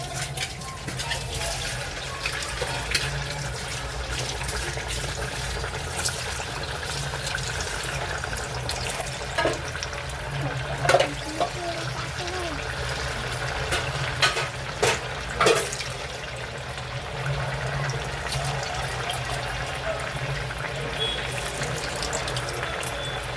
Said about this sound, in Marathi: आता आपलं तेल गरम झालं आता आपण आपला वडा सोडूया